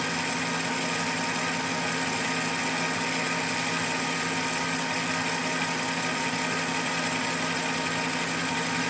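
A metal lathe runs at 340 RPM, turning a bronze blank for a 5 tpi Acme nut on a restored Harrison mill setup. It gives a steady, continuous mechanical hum with a constant whine, loud and unbroken throughout.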